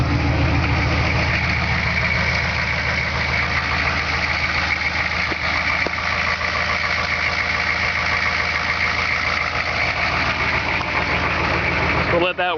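Car engine idling steadily after a cold start on a snowy day, a close, even rumble with a slight knock that runs unbroken for about twelve seconds.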